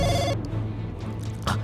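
A telephone bell rings in a tense Bengali horror drama. The short, bright ring sounds at the very start and then cuts off, leaving a low hum.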